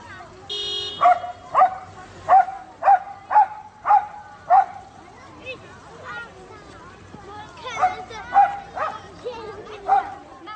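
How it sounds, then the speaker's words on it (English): A dog in Georgia barking at street traffic, a run of about seven sharp, evenly spaced barks, a pause with softer sounds, then three or four more barks, fairly close and loud. "This dog is a local celebrity in Georgia because it always barks at traffic when children need to cross the"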